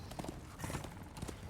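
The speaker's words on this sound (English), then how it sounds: "Your horse does regenerate the sprinting fairly quickly." A horse gallops in the video game Darksiders II: Deathinitive Edition on PS4, with quick, faint clip-clop hoofbeats in uneven bursts.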